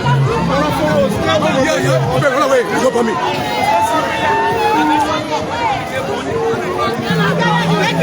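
A large crowd chatters at a Liberian party youth league event, a dense hubbub of many voices all around, with one voice talking close by over the babble.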